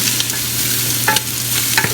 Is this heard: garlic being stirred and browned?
yes